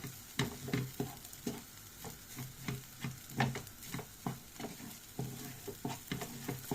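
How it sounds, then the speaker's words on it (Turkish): Bulgur is stirred and sautéed in butter in a pan, giving a soft steady sizzle broken by rhythmic scraping strokes of the spoon, close and fairly quiet. "Bunu biraz böyle kavurayım ben."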